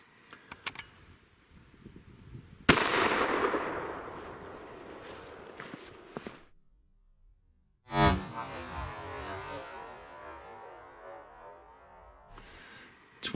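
A 300 Blackout rifle with a 16-inch barrel fires a Hornady CX bullet outdoors at a ballistics gel test: two loud, sharp reports with brief echoing decay, separated by a few seconds of quiet.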